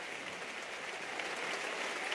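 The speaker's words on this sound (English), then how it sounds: "the 21st minute where the Espanyol fans traditionally applaud the memory of Dani Jarque" Espanyol fans applaud in the stadium in the 21st minute of a match against Real Madrid, a steady, broad wash of clapping from a large, distant crowd that holds evenly and swells slightly toward the end.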